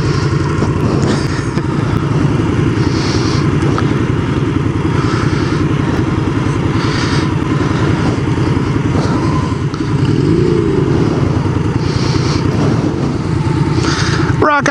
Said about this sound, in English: that exhaust is too quiet. I can hear Barney over my bike